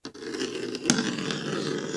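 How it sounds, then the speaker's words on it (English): A huge heavy crossbow scrapes and drags continuously along a hard floor, a gritty grinding rumble with a sharp clank near the start. "And that's him walking, dragging this crossbow"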